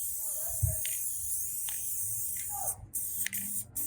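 Aerosol spray can misting a light coat of adhesive onto an inspiration board, short soft hissing bursts near the mic, with light handling rustles and quiet talk in the background.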